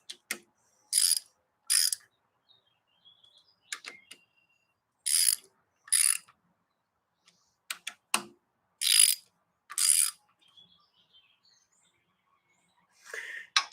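Bolts on a rebuilt buggy engine cylinder are tightened with a ratchet in a crisscross pattern: crisp bursts of clicking, often in pairs, separated by quiet pauses.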